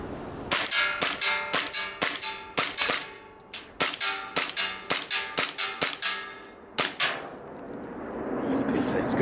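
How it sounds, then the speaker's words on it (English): A Cybergun CANiK TP9 Elite Combat green gas blowback airsoft pistol fires at targets 15 meters away, with around twenty sharp, snappy cracks in quick, slightly uneven strings and a short pause midway, close and loud. "Okay, CANiK gas blowout pistol, 15 meters."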